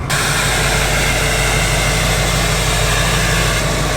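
A lifted truck on a 6-inch lift with 35-inch tires idles steadily with a deep, low rumble and constant hiss. The sound is loud and close, with no talking over it.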